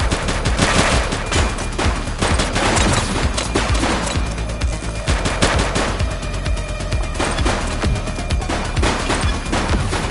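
A suspect opens fire in the police game The Precinct: sustained, loud machine-gun and rifle fire crackles densely for ten seconds, overlapping shots with crashes and booms mixed in, no talking.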